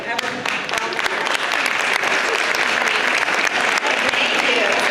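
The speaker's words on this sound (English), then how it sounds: "I want you to stand up so we can applaud you" An audience at a drama club showcase applauds volunteers with loud, sustained clapping from start to finish, and a few voices rise beneath it.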